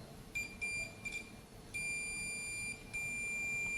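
Multimeter continuity beeper testing points on a solderless breadboard, a shrill electronic tone sounding in short broken chirps and then a longer sustained beep, close and clear over faint background hiss, no talk.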